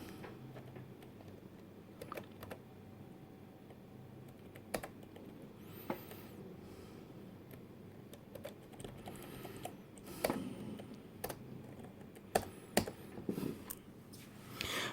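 Fingers typing on a ThinkPad 380ED laptop keyboard, scattered key clicks at an irregular pace, quiet and close, growing denser and slightly louder toward the end.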